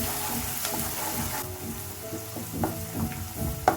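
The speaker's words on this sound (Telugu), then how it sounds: "ఇదంతా బాగా వేయించుకోవాలండి కొంచెం ద్వారగా వేయించుకోవాలి" Ingredients for ragi muddha fry in a pan, a close, loud sizzle with stirring scrapes and a few sharp clinks near the end, no talking.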